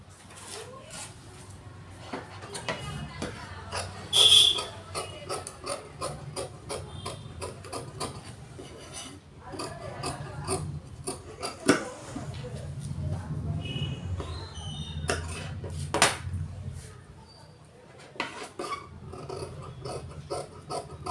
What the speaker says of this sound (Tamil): இப்போ கை வெட்ட போகிறேன், கை வெட்டுவதை எல்லோரும் கவனமாக பாருங்கள்.